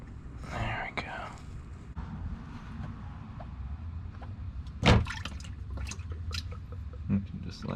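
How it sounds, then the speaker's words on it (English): Engine oil dripping from the oil filter of a 2022 Honda HR-V into a drain pan, soft wet drips and trickling under quiet, whispered talk, with a sharper splash near the middle. "You can just let that run down till it also stops dripping"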